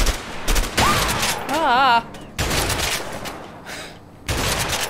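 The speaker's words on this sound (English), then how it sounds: "I wasn't shooting at you. You shot near me!" Gunshots in the video game A Way Out: bursts of loud close gunfire come in several clusters, with a rising whistle-like tone and a brief voice exclamation between them.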